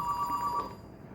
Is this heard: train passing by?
no